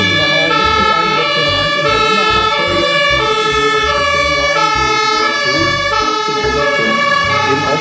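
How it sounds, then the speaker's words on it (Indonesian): A toy fire truck siren wails loudly and without a break, its electronic two-tone pattern repeating over a low rumble of motor sounds. "Ini juga ada mobil damkar lagi."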